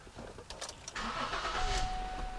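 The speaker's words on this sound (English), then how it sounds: "Start the car." Ford Edge engine cranks briefly and catches, settling into a low idle hum within about two seconds, close and fairly quiet.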